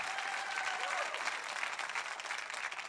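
A church congregation applauds during a French-language service, a dense, steady wash of many hands clapping that holds from start to finish with a few brief tonal traces in the background.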